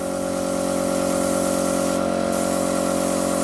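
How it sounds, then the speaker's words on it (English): An airbrush with its pressure turned down sprays paint onto a custom Megatron figure, giving a steady, loud, unbroken hiss with a continuous compressor drone underneath. "So airbrush, I'm going to turn the pressure down on the airbrush a bit. I hope it sort of sprays properly"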